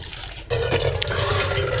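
Raw mutton being washed in water, a rush of splashing and running water that starts abruptly and continues steadily up close, with no talking.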